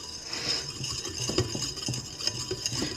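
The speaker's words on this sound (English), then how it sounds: "So what I'm going to do is whisk it up." Pumpkin bread batter whisked in a bowl, a continuous soft scraping and light rattling of the whisk with occasional faint clinks against the bowl, close and moderately quiet.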